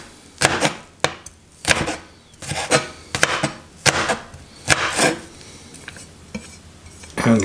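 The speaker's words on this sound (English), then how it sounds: "2 large cloves of garlic. I'm gonna cut these" A knife roughly chops large garlic cloves on a cutting board, about a dozen loud, close, irregular thunks with a brief scrape between some strokes.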